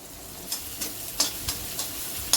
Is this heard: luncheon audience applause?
no